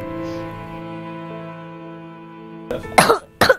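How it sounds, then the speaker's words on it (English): A child coughing with mucus: a few harsh, wet coughs near the end, close and loud, following a steady tonal hum in the background. "when I cough, it makes it harder to breathe"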